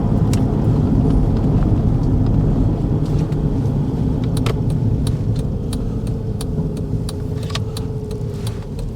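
Cars pass steadily along the main coast road near Latchi, a loud continuous rumbling roar close by, with faint small clinks scattered through and no talk.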